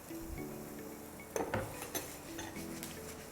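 Corn pakora ingredients with turmeric, red chilli powder and salt are tossed in a bowl: a few quick metallic clinks and scrapes of a spoon against the dish over a quiet room.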